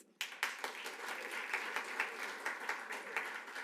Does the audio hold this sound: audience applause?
yes